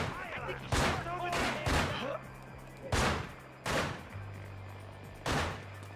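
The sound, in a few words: gunfire in a video game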